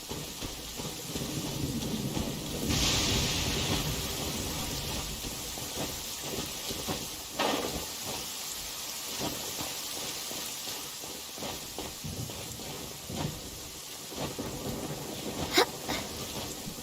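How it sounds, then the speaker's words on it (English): Steady rain pours with occasional rumbles and cracks of thunder in a video game, Genshin Impact, continuous and moderately loud with no talking. "The rain won't slow me down."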